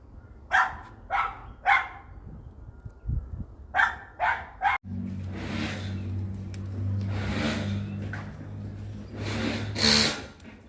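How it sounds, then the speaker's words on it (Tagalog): A dog barks at solar installers who have arrived at a house, sending out bursts of sharp, close barks in quick clusters, then more distant, rougher barking over a steady engine-like rumble. "pipick upin na lang po dito sa amin ang ingay ng aso"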